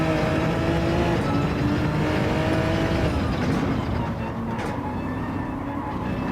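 A race car laps a circuit in the video game Gran Turismo 7, its engine a continuous, fairly loud drone that holds steady throughout with no break.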